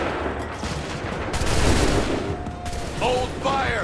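A musket volley fired by soldiers in Assassin's Creed III, a burst of crackling shots that peaks and fades over a few seconds, followed by brief shouting voices.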